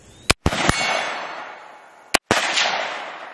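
Rifle shots fired outdoors at a distant silhouette target: two sharp, loud cracks close together, then a pause and another pair of cracks, each followed by a fading echo across open ground.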